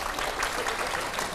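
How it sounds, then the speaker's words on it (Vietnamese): Enthusiastic hand clapping, a quick dense burst of many claps in a lively indoor gathering, sustained and fairly loud for the whole moment. "Em vỗ tay nhiệt tình."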